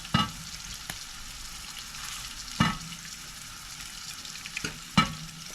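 Pork pieces for garlic pork bites sautéing in a hot pan, a steady close sizzle with a few sharp scrapes or clanks of stirring at intervals, no voices.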